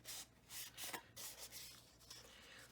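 A scoring tool drawn along a fold line on cardstock for a shabby chic card folio, giving short rubbing, scraping strokes in several close bursts with no talk.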